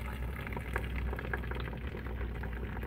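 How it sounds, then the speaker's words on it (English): Water pours onto ground coffee inside a homemade coffee maker built from a gallon jug with a filter, giving a steady, close bubbling and splashing wash with no voices. "Add water,"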